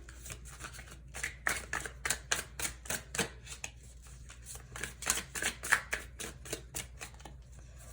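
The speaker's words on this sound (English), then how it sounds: "So let's go ahead and start shuffling here." Tarot cards being shuffled by hand up close, a run of quick riffling flutters and soft slaps in uneven bursts over a faint low hum, with no talking.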